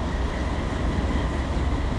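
Train pulling out of a yard toward a signal in the Open Rails simulator game, a steady low rumble of rolling wagons and engine under faint rail noise, continuous and fairly close.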